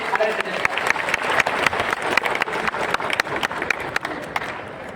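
Loud applause from a crowd at a public speech event in Bihar, continuous dense clapping with sharp individual claps standing out, sustained across the whole stretch.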